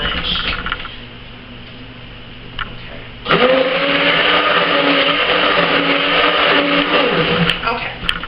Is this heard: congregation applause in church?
no